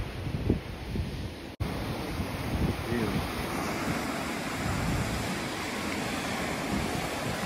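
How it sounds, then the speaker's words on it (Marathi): Steady rushing roar of big sea waves at Harne port on the Konkan coast, mixed with gusty wind noise on the microphone, with one sharp click early on. "लाटा बघा केवढ्या मोठ्या आहेत"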